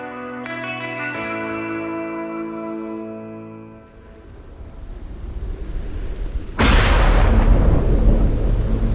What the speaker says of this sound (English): A massive storm is pounding the city of Houston.